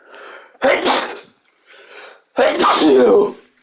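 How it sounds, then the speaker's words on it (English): A person sneezes twice, loud and close, each a sharp burst after a softer intake of breath, during a Minecraft-style game stream, with a short quiet gap between the two sneezes. "I don't like sneezing during a stream"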